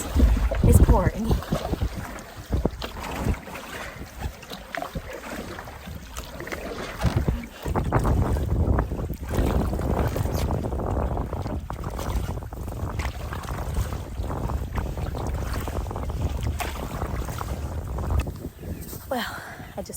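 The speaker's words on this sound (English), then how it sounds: "Hopefully this wind will move so it goes behind us." Wind gusts buffet the microphone while paddling a canoe on a lake in the Boundary Waters wilderness, with water sloshing against the hull and a voice speaking briefly over the steady broadband rush.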